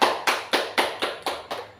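Seven evenly spaced claps from a small group of teachers at a training session, crisp and fairly close, each burst fading quickly, with no talking.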